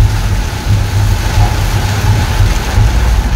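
Heavy rain pours during a motorcycle ride, a loud, dense, continuous hiss over a low, steady engine drone with no break.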